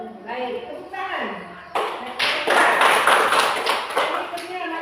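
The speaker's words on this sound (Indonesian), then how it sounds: "Baik, tepuk tangan." Students clapping together in a primary school classroom after a group presentation, a burst of dense hand claps that starts abruptly partway through and continues fairly loud, following a stretch of an adult voice speaking.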